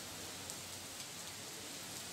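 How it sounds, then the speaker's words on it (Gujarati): Heavy, steady rain pours down after dark storm clouds gather, a dense continuous hiss of drops on surfaces with no voices, constant and even throughout. "કાળા ડિબાંગ વાદળો ઘેરાયા અને ત્યારબાદ નરાધાર વરસાદની શરૂઆત થઈ"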